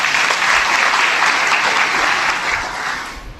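Sustained applause from an audience at a Pandharpur wari gathering, honouring the Mauli group: dense, steady clapping close and loud throughout, easing slightly near the end.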